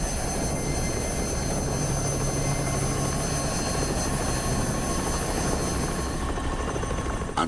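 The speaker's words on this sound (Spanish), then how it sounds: "enviaremos el helicóptero a Eyl para ver si puede conseguir reabastecimiento" A helicopter lifts off for a resupply run, its rotor and engine roaring steadily and loud, close by and without pause.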